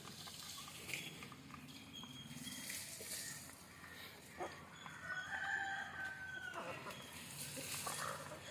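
Country chickens clucking and a rooster crowing in a quiet yard, faint and somewhat distant, with scattered calls and soft pattering through the stretch.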